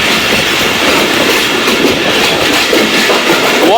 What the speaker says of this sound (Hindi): ये थी 28 डाउन शालीमार एक्सप्रेस